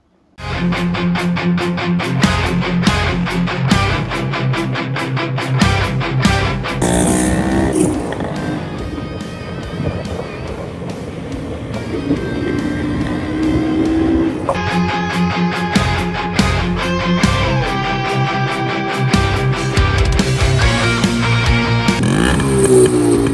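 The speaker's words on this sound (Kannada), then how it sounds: "ಫಸ್ಟ್ ಟೈಮ್ ಈ ಗಾಡಿನ ಓಡಿಸ್ತಾ ಇರೋದು ಯಾವುದಂದರೆ ರಾಜದೂತ್ XL T175 ಇಲ್ಲಿದೆ ನೋಡಿ" A Rajdoot XL T175 motorcycle, a model about 28 years old, being ridden, its steady engine drone running continuously and loudly close by for the whole stretch, with the pitch shifting slightly as the rider changes speed.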